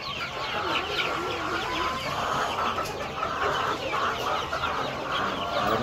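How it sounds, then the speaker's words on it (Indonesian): A flock of one-month-old chickens clucks busily while eating feed, a dense, loud chorus of overlapping clucks that keeps going without a break. "Ayam lagi makan tuh."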